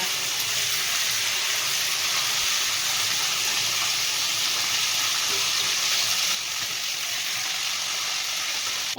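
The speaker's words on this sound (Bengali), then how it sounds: "একইভাবে সব মাছগুলো আমি ভেজে নেব" Lote (Bombay duck) fish frying in oil over a low gas flame, giving a steady, even sizzling hiss that holds for several seconds and eases slightly near the end.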